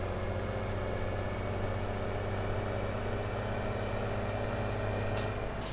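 A tractor engine idles steadily in Farming Simulator 17, a faint, even low mechanical hum with no change in pitch.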